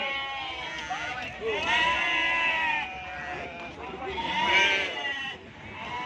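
Sheep at the Gudur sheep market bleating loudly and repeatedly in long wavering calls, several animals overlapping close by, with people talking underneath throughout.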